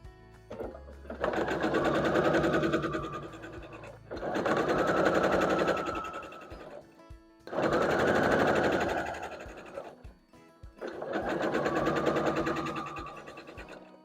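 Sewing machine stitching snowballed corner pieces onto small acorn quilt blocks, four rapid rattling bursts of stitching separated by short pauses, close and clear.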